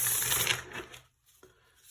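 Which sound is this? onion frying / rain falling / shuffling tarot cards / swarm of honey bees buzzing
shuffling tarot cards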